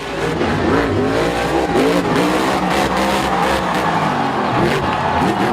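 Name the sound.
monster truck toy car engine revving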